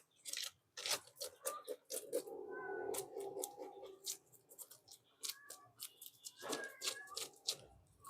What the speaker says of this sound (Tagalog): ayan na yung mga pusa